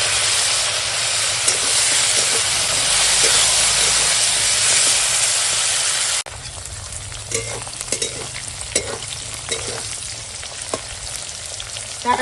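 Tomato goes into hot oil with already-fried onion, and a loud, steady sizzle and hiss rises at once, then settles into a softer crackling fry with scattered pops and stirring scrapes.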